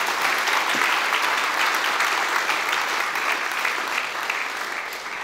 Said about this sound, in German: Das ist ein Applaus wert, meine Damen und Herren.